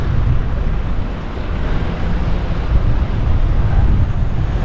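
Continuous gusty wind buffeting the microphone near the Brandenburg Gate in Berlin, a heavy low rumble that stays loud and steady with no speech.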